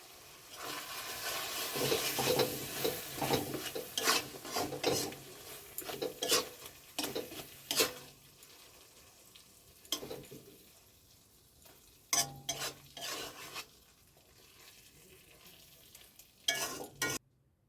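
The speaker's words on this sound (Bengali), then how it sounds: "এবারে দিয়ে দেবো সর্ষে আর পোস্ত বাটা। এবারে ভালো করে নাড়িয়ে চাড়িয়ে নামিয়ে নেব" Pabda fish curry with mustard and poppy seed paste stirred in a pan, soft sizzling under repeated sharp scrapes and clinks of a spoon against metal, close and irregular, quieting toward the end.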